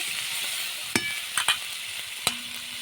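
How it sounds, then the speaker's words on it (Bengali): Chorchori vegetables being stirred in hot oil: a steady broadband sizzle throughout, broken by a few sharp scraping clacks of the spoon against the pan, close and fairly loud, with no voices. "নেড়ে নিচ্ছি আর কি তো তেলের মধ্যে নেড়ে আর কি চচ্চড়িটা করলে একটু ভালো লাগে"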